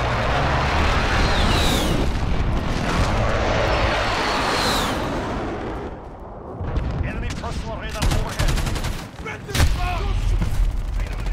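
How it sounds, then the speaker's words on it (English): An enemy cruise missile strike in Call of Duty Modern Warfare, with loud continuous rumbling blast noise and whooshing sweeps filling the first half, then scattered gunfire and booms, while game voice announcements play. "Enemy cruise missile, take cover."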